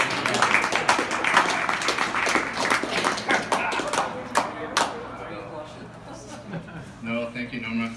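A school audience applauds someone stepping forward, a burst of scattered hand claps that thins out after a few seconds as voices take over near the end.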